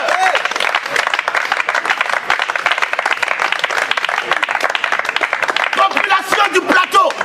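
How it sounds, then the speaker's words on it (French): A church congregation applauds and acclaims the Lord, with dense, sustained clapping and crowd voices at close range, loud and continuous throughout. "On acclame le Dieu de gloire."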